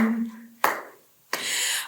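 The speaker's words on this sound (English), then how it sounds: "Will you be a friend of mine and clap along with me?" During a children's storytime sing-along, hands clap along to the song: two sharp, close claps spaced about a beat apart, with a brief sung note just before them.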